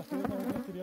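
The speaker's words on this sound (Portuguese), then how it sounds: "Cheia de abelha que foi capturada." Dense buzzing of a honeybee swarm packed into a captured bait box during transfer, a steady close-up hum with no talk.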